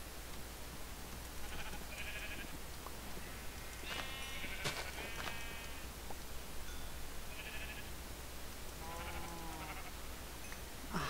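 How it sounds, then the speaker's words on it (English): Several sheep bleats in a Minecraft-style video game, short wavering calls at moderate distance separated by pauses over a faint steady hiss. "Sheep!"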